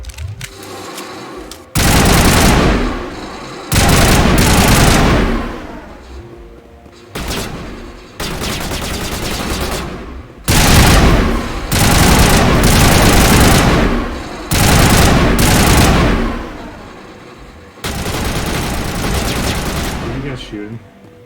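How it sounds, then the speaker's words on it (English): Loud bursts of automatic gunfire in a video game firefight, several long sustained volleys separated by brief pauses, with rapid booming shots close up. "Shooting."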